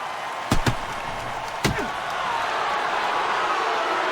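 Arena crowd in the NHL 09 hockey video game booing at the ice after a fight: a couple of sharp slams early, then a broad, steady roar of disapproval that swells and holds to the end.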